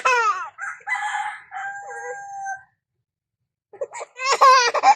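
A rooster crows nearby in a long drawn-out call, followed after a brief silence by shrill squawking and clucking.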